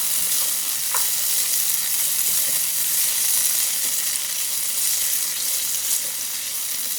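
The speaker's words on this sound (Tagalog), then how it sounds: "Sunod naman, lutuin na natin yung mixed veggies." Mixed vegetables sauté with garlic in an oiled pan, a steady bright sizzle broken by frequent stirring scrapes and clinks of the utensil.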